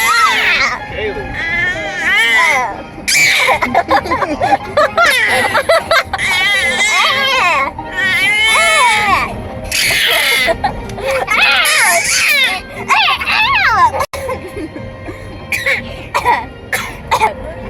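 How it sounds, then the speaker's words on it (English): A baby cries and fusses in a car, loud wailing bursts with breaths and whimpers in between, while an adult talks at times. "I'd rather have you do that than crying."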